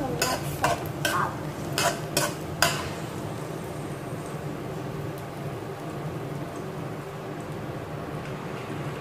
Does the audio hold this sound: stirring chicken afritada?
yes